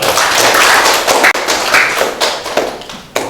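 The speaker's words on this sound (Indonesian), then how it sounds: "beri tepuk tangan untuk kelompok 2" A class of high school students applauds a group that has just presented batik motif designs in a classroom, giving a dense burst of many hands clapping close by that runs steadily for a few seconds with no talking.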